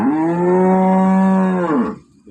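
A single long, loud cow moo, close by, sustained for about two seconds before cutting off into quiet.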